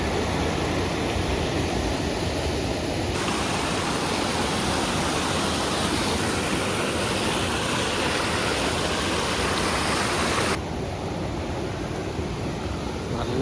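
Swollen floodwater rushing through a stream, a loud continuous roar of turbulent water filling the whole stretch without pause, close by and unbroken, with no voices.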